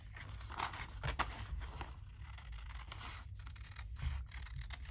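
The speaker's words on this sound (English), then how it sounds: "I'm actually going to cut it as straight as I can down the center." Scissors slice paper down the center in short, quiet snipping and scratching strokes, close by with no talking.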